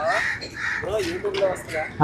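Crows cawing in Vizag near a beach road, several harsh caws repeating close by in quick succession over a busy outdoor background.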